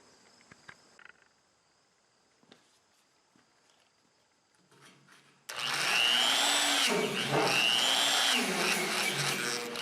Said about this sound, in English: with 60 or 80 grit roll on here, abrasive roll, and just go in there and clean up all of the sharp ends